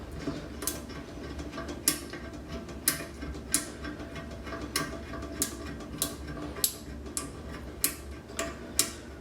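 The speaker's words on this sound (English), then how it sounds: "This is one of these fancy toilets. It clicks and everything." The bolt fitting on a fancy toilet gives a series of crisp, sharp clicks at fairly regular intervals, about a dozen in all, each one close and distinct over a low background hum.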